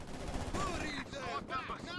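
Maxim and MG34 machine guns exchange fire in a Company of Heroes 2 battle, a few quick bursts of gunfire with a voice speaking over them.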